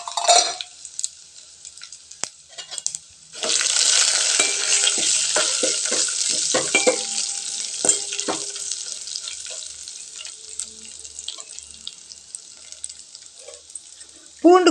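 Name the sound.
mustard seeds, chana dal and urad dal sizzling in oil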